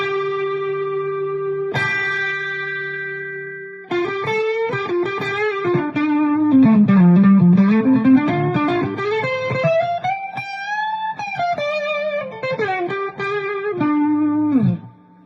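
Electric guitar played through a distortion pedal, sustained gritty notes bending and sliding up and down, loud and close, with echoey effects and no talking.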